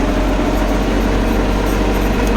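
A tractor engine idles in a field with a steady low rumble, continuous and fairly close, with no voices.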